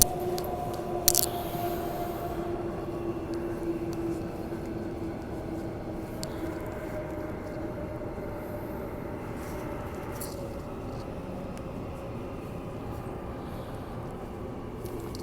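A Transperth B-series electric train terminating at Elizabeth Quay rumbles steadily from inside the car, with a whining motor tone that fades as it slows, a sharp clunk early on and a faint broadband rush throughout.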